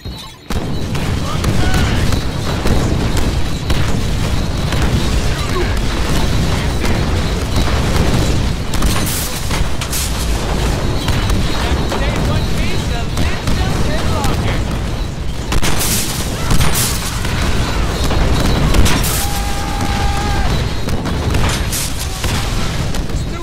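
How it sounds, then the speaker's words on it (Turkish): Grenade explosions in a Deadpool game, a series of heavy booms and bursts punctuating constant combat noise, with talking voices mixed in throughout. "Grenades!"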